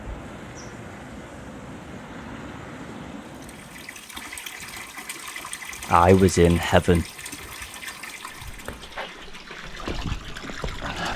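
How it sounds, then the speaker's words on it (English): Spring water running in a valley on a hike in the Azores, a steady rushing flow beneath a man's speech, with a brief louder splashing burst partway through. "I could hear something down in the valley, which could only mean one thing. Water."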